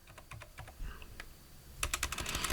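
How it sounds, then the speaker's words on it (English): Quick bursts of keystrokes on a computer keyboard, close and fairly quiet, with short pauses between clusters and a faster, denser run of typing toward the end. "If I can only type properly"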